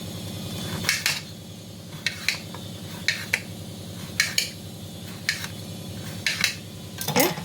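Food being cut with a knife: sharp, crisp chops landing roughly once a second, some in quick pairs, over a steady low hum.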